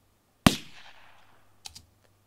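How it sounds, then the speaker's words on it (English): A single thin placeholder gunshot sound effect: one sharp crack with a short decaying tail, followed by two faint quick clicks, with no talking. "we have a couple of tracks of gunshots and a rough placeholder sound effect has been put in place"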